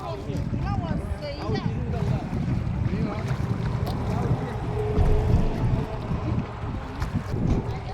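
Boat on the river at Vang Vieng, Laos, moving through the water with steady splashing and wind buffeting the microphone, while several voices talk, call out and sing over it throughout.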